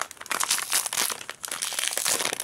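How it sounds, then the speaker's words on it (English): Resealable plastic bag crinkling and rustling continuously up close, crisp crackles as it is handled, with no talking. "It's in a resealable bag."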